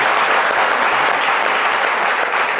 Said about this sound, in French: Est-ce qu'on les applaudit?